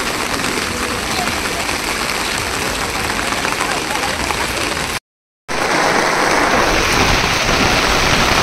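Heavy rain at the Konark Sun Temple falls as a loud, dense, steady hiss, broken by a brief half-second silence midway.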